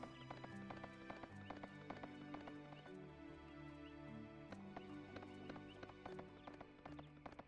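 Horse hooves clip-clop in the Suikoden III video game, a rapid, regular trotting rhythm of sharp clicks layered over steady game music, quiet overall.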